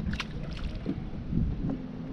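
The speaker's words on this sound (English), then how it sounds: "The wind's puffing kind of bad." Wind buffets a fishing boat on open water during crappie fishing, a steady low rumble of microphone gusts with faint water and hull sounds and no talk.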